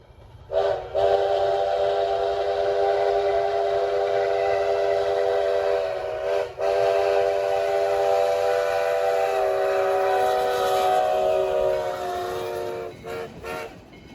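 US Sugar steam locomotive 148 passes where US 27 crosses the tracks west of Moore Haven, its multi-tone horn blaring loudly and almost continuously over a heavy rolling rumble, with a few brief breaks near the end.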